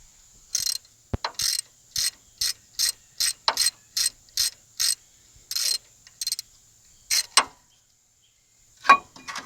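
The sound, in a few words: ratchet removing a banjo bolt from a disc brake caliper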